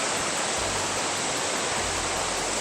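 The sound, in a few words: Huay To Waterfall, a multi-tier waterfall in Krabi, Thailand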